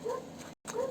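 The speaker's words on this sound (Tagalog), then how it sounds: "ingay ng aso" Two short yelping dog barks, fairly close, separated by a brief silence.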